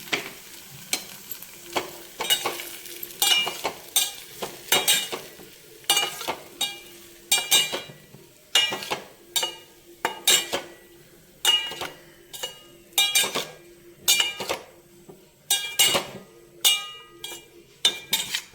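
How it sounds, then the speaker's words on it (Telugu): Soaked flattened rice (poha) stirred and fried in ghee in a pan for atukula payasam, with a rhythmic series of scraping spoon strokes and clinks over a low steady sizzle, close and alone. "ఈ నెయ్యిలో ఈ అటుకులు కూడా వేసేసుకొని కొద్దిగా వేయించుకుందాం"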